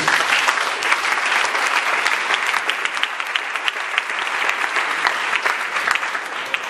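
A crowd claps loudly and steadily, a dense wash of applause that holds from start to finish.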